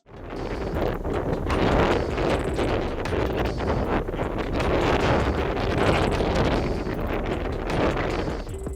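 Heavy crosswind gusting over the microphone during a fighter jet landing, a loud continuous broadband roar with surging buffets and no speech throughout.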